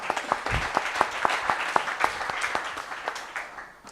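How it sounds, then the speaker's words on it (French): Applause from an audience at a university sports-marketing round-table event, a dense, steady patter of clapping with sharp individual claps standing out, fairly close and continuous before tapering slightly at the end. "Sylvain, si tu veux bien monter sur scène sous vos applaudissements nourris."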